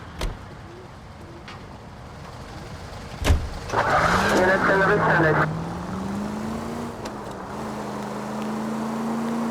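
A car in the video game L.A. Noire: a door thuds shut, then the engine starts and revs, settling into a steady driving hum that rises and holds, close and loud.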